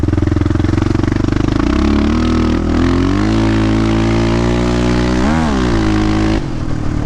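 A Yamaha Raptor 660 ATV engine revs hard and close, its low, throbbing drone rising and falling in pitch with a brief dip and surge near the end, loud throughout with no talking.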